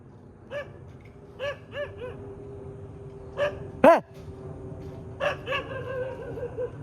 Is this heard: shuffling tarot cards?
no